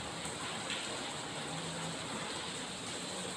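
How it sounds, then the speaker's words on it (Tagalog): Light, steady rain falls outdoors on a day off after a heavy morning downpour, a faint and even hiss with no voices. "yung ulan niya ay ano, parang mahina lang baga na"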